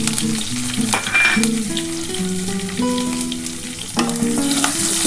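Black cumin, garlic, and dried and green chillies fry in hot oil, crackling and sizzling close up with a few sharp spatters, while music plays along underneath.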